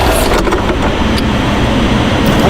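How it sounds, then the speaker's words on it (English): A Range Rover engine close by runs on briefly as it shuts off, with a faint knocking from a failing supercharger coupler bearing under a steady, loud mechanical rumble and no speech. "that is the sound of a failing coupler bearing"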